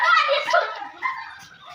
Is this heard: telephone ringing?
no